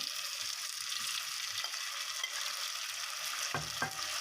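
Tomatoes go into a frying pan of browning ingredients for a black chickpea masala, giving a soft, steady sizzle with a couple of light clunks of the spoon near the end.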